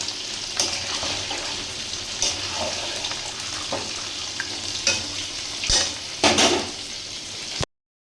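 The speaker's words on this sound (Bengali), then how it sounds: "এবার ভালো করে কষাতে হবে মাংসগুলোকে" Chicken pieces being sautéed in a pan for chicken kosha, giving a steady close sizzle with repeated scraping and stirring strokes, a few louder bursts near the end.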